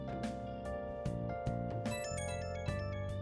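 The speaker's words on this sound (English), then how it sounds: "Oh, now what? Phone's going off the hook." A phone ringtone chimes in the Persona 5 video game, a bright repeating electronic melody of stacked tones over steady background game music, playing continuously and fairly loud with no talking.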